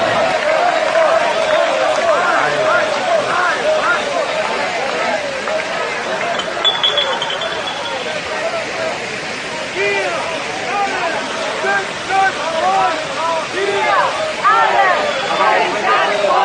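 A crowd at an anti-lockdown protest chants in German, a dense, continuous roar of many voices heard from a distance for the whole stretch.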